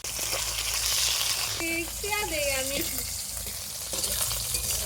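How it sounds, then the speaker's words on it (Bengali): Rohu fish pieces frying in oil in a wok, a steady hissing sizzle with stirring, while a voice briefly speaks in a sing-song tone midway. "মাছগুলোকে লাল লাল করে ভেজে নিন"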